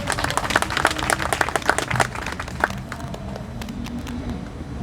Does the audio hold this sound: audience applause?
yes